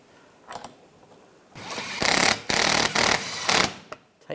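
Power tool driving in the radiator fan screws on a 2013-2016 Dodge Dart, a few short whirring bursts near the mic, each running about half a second to a second, with brief pauses between them.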